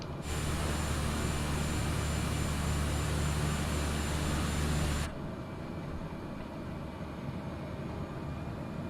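Light aircraft engine in Microsoft Flight Simulator 2020, droning steadily at high power before the throttle is cut back sharply about halfway, leaving a quieter, lower hum.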